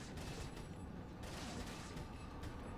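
Gunfire in the video game Resident Evil 4 on a tram ride, a steady barrage of shots over continuous clattering mechanical rumble, loud and dense throughout.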